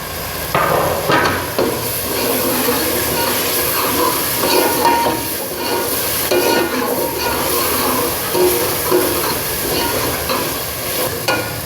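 Ginger, tomatoes and green chilies sizzle loudly in a hot tempering for ginger curry, a constant frying hiss broken by spoon-against-pan clatter as the mixture is stirred up close.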